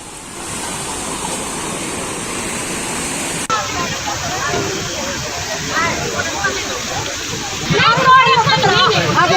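Rainwater rushing over a road in Shimla during heavy rain, a loud, constant broadband roar that never lets up and swells slightly near the end, with a voice talking over it.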